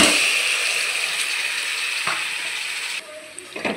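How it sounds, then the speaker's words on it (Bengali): Marinated chicken tipped into a hot pan in which fenugreek leaves are already frying: a loud, bright, continuous sizzle with a few faint clunks, easing sharply near the end as the hiss drops back. "এরপর আমি যে ম্যারিনেট করা চিকেনটা রেখেছিলাম, সেটাকে ঢেলে দেব।"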